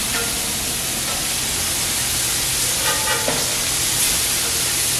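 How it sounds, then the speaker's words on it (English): Steady sizzling hiss of food frying on a hot grill, constant and fairly close, with a few faint pops and crackles. "And isn't that a wonderful sound? Sizzling."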